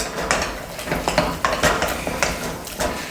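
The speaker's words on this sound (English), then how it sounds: "So you want to keep mixing this until all the eggs are incorporated into the dough" Churro dough being mixed as eggs are worked in, giving a series of soft, irregular scraping and clacking knocks from the spoon and bowl, close and moderately loud with no talking.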